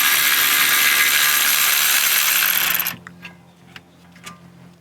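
A Milwaukee power tool drives out a brake caliper bolt on a 2011-2017 Honda Odyssey during front brake replacement, a loud steady whir for about three seconds, then it stops abruptly and a few faint clicks and taps follow.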